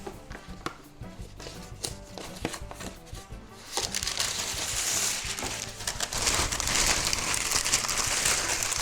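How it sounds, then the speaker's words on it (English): Parchment paper crinkles and rustles while chocolate peanut-butter cups are being made, at first in light scattered taps and crackles, then in a louder, continuous crumpling as the sheet is handled close by. "And now I'm going to get me another piece of parchment paper."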